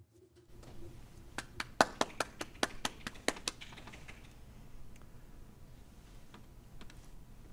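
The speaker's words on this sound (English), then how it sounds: "Lots of clapping hands, there we go." Hand clapping after a lecture on the youth vote: about a dozen sharp, fairly quick claps, close but modest in volume, which die away after a few seconds into quiet room tone.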